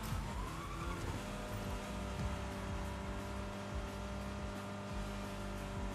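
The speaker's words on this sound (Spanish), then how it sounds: "Mira qué derrape voy a hacer." Car drifting in Fortnite Rocket Racing, a steady engine drone with a tire screech sliding down near the start and continuous game noise underneath, no talking.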